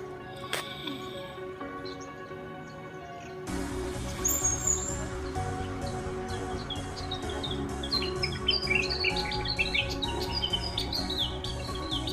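Many birds at a seaside chirp and tweet in a busy, overlapping chorus, growing denser after a few seconds, over steady outdoor background noise.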